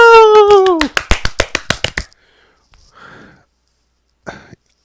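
Hand claps close to a handheld microphone: about a dozen quick, rhythmic claps that follow a short voiced cheer, then near silence with faint rustles.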